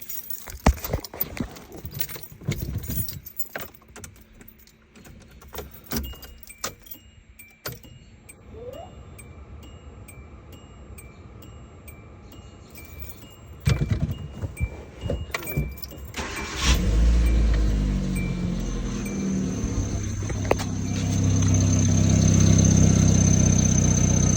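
Keys jingle and rattle, then a car engine cranks and catches after a fuel tank replacement, settling into a steady, rumbling idle that grows louder toward the end.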